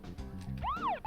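A vehicle siren in the video game Deadly Premonition Origins gives one quick, electronic wail that sweeps up and falls back down, sounding loud and close over a low engine hum.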